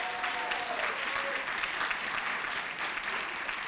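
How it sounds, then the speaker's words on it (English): Audience applause fills a graduate hooding ceremony, steady dense clapping from a large crowd throughout, with a faint voice briefly audible near the start. "give our lovely ambassadors a round of applause for all their hard work"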